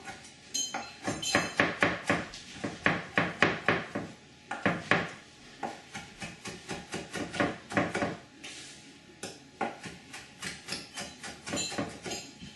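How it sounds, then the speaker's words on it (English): A knife chopping on a cutting board, rapid close knocks in quick bursts with short pauses between runs, crisp and fairly loud, with no talk. "center my cutting board and just chop it"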